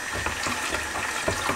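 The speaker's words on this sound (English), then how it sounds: "add your cold water" Cold water pouring into a container of sweet tea, a continuous close splashing rush with a faint rattling texture, heard alone.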